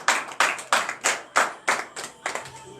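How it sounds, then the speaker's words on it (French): A church congregation claps in acclamation during a French-language sermon, a steady rhythmic beat of about eight or nine sharp, unison claps, close and fairly loud, with no talk over it. "Donnez l'acclamation au Seigneur."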